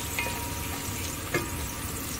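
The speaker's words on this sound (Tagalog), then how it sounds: "nagigisa na ako ng bawang, luya, tsaka sili" Garlic, ginger and chili sauté in a hot pan for pork intestine adobo, giving a steady close sizzle with one brief clink of stirring partway through.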